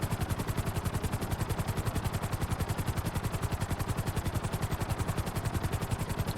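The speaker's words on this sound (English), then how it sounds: "it looks like it's the 2nd fastest helicopter in the game." Conada helicopter in GTA 5 Online, its rotor blades chopping in a fast, steady, evenly pulsing rhythm, loud and close, with no talk.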